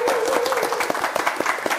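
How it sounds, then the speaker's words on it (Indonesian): An audience applauds for a regional group at an Indonesian scholarship event, producing a brisk, steady patter of many hands clapping with a few sharper claps standing out and a faint voice underneath. "beri tepuk tangan untuk Kolaka Utara"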